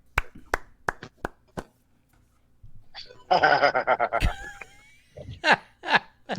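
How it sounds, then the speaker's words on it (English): Hand clap sounds played by a smart home assistant, a series of sharp separate claps at irregular intervals, followed by voices and laughter up close. "I can make your hands clap"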